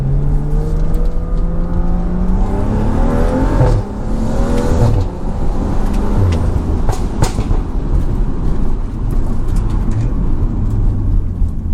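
A loud BMW F30 engine with XHP transmission settings revving up with rising pitch, broken by several quick gear shifts, each followed by another climb, continuous and close.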